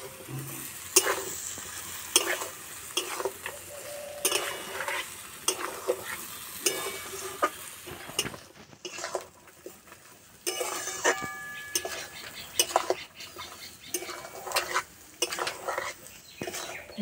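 Ridge gourd stirred and fried in a pan produces repeated scraping and clinking of a spatula against metal over a continuous low sizzle, close and steady for many seconds, with no voices.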